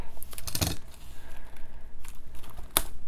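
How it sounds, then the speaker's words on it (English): Scissors snip at the packaging of a Japanese Pokémon card box, giving two short crisp cutting bursts, one early and one near the end, close and moderately loud with faint rustling between. "Hopefully the scissors work here to open up the box."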